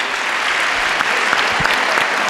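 Dense, steady applause from a conference audience at a debate panel, continuous broadband clapping at close range with no gaps, lasting a couple of seconds.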